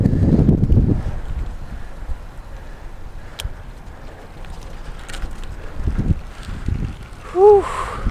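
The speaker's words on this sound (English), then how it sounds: "Pretty darn windy up here though." Strong wind buffets a microphone outdoors while a Motobecane commuter bike on Schwalbe Marathon Supreme tires is ridden, a steady low rumble with heavier gusts at the start and near the end, plus a brief bird-like honk at the close.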